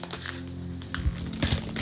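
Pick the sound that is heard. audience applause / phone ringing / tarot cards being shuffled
tarot cards being shuffled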